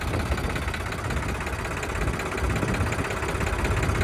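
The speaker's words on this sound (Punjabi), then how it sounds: "ਇਹ 'ਚ ਵੀ ਔਖਾ ਹੀ ਤੁਰਦਾ ਟਰੈਕਟਰ" A John Deere 3602 tractor engine labouring in a waterlogged field after rain, a steady, loud, rough drone with a knocking low-end rumble throughout.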